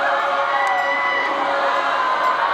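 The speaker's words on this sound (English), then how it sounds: "The massive crowd descending on Parliament's forecourt." A massive crowd of climate strike marchers gathers on the forecourt of Parliament in Wellington, with dense, continuous cheering and shouting that holds steady and loud.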